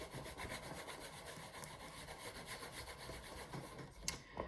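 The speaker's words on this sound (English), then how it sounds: "And burnish it with my bone folder." A bone folder burnishing paper in a steady, soft, close rubbing rhythm of repeated strokes, with a small tap near the end.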